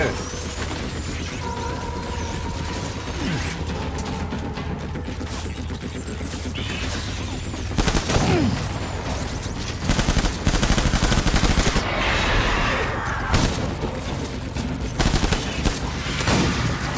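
Gunfire in the video game Death Stranding Director's Cut: rapid automatic bursts and scattered shots over a constant mechanical rumble, with louder volleys clustered toward the second half, no talking.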